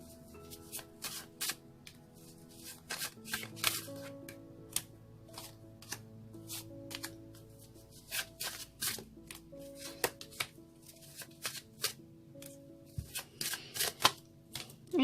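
A deck of cards is shuffled repeatedly in quick riffling bursts during a card reading, close and crisp, with short pauses between rounds.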